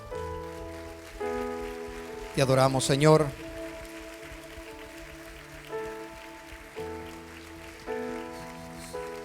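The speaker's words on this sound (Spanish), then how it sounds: "le demos una ofrenda de palmas a nuestro Dios" A church congregation applauds in praise, a soft clapping texture running beneath sustained music tones. A voice speaks and sings over it, loudest in a short burst near the start.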